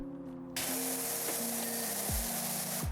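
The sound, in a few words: power washer spraying walls in PowerWash Simulator 2 video game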